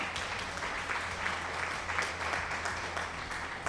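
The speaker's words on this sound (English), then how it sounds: "Thank you for the applause there, Jim Duck." Steady applause in Farming Simulator fills the clip, a dense patter of clapping from a crowd, fairly faint and continuous throughout.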